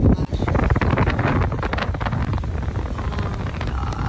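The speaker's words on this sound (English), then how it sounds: "Wow, that's really windy." Strong wind buffets the microphone with loud, continuous low roaring gusts that barely let up.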